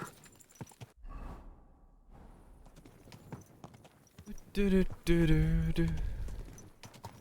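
A horse in a medieval video game clip-clops in short bursts of hoofbeats, with a louder run of galloping hooves near the end and a brief spoken word early on.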